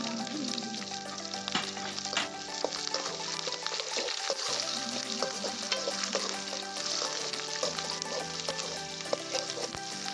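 Small shallots, garlic and curry leaves fry in hot oil for a sundakkai vatha kuzhambu, giving a dense, continuous crackling sizzle, close and fairly loud throughout with no talk.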